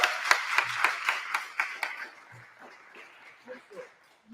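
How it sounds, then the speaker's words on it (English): Applause at a young writers' awards event starts as a rhythmic group clap, brisk and evenly spaced for about two seconds, then scatters and fades amid chatter and a few cheers. "let's all give ourselves one more round of applause for our beautiful work."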